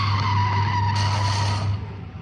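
A cartoon car skids on the road just before striking Gulli, a loud sustained tire screech with engine hum lasting under two seconds, then cutting off abruptly and fading.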